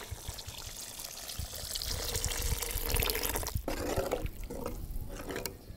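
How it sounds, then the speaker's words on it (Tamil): Water pours steadily into a cooking pot for goat intestine biryani, a faint continuous splashing and trickling stream close by, with no talk over it. "இப்போ ஒரு குண்டா அளவுக்கு தண்ணி ஊற்றினா கரெக்டாக இருக்கும்."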